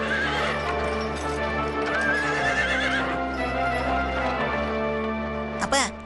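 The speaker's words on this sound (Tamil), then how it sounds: "குதிரையை பாத்தீங்களா? நம்ம குதிரையை விட வேகமா போகும் போல இருக்கே." A cartoon horse gallops with a steady, rhythmic clip-clop of hooves under a low rumbling bed. Near the end it gives a sharp, loud neigh.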